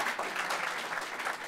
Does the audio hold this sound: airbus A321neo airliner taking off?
no